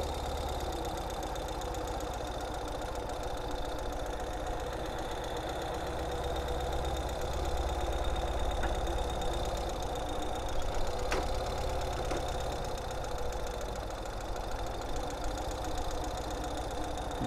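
Steady, continuous idle of a 2022 Ural Gear Up motorcycle engine with a low rumble and slight knocking texture, held evenly throughout with no revving or talk.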